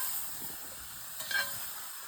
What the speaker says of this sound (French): la cuisson des boulettes avance bien. Ben, ils ont bien grillé.